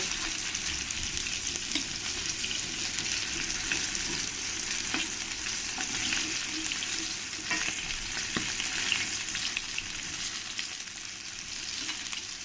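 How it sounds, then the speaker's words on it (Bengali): Katla fish pieces fry in hot oil, a steady dense sizzle with crackling spits and occasional stirring clinks, continuous and close with no voices. "আমার মাছগুলো ভালো করে লাল লাল করে আমি দেখো কড়া কড়া করে ভেজে নিয়েছি"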